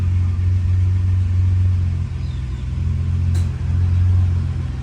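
A car engine idles steadily with a low rumble and a faint repetitive rattling knock underneath, close to the microphone.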